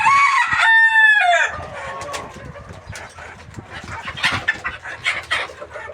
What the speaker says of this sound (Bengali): এই হচ্ছে আমার মুরগি।